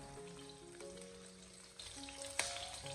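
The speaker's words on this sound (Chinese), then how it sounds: "先开小火将它慢慢的翻炒一下，把姜片和葱段慢慢的翻炒至微微的金黄焦香" Ginger slices and scallion pieces frying gently in a little oil in a wok over low heat, giving a soft steady sizzle with a few tonal clinks and one sharp utensil knock near the end.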